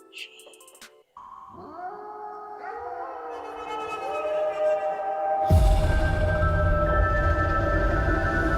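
A person's voice imitates a wolf howl, a long rising and sustained tone, then a loud burst of noise cuts in near the end.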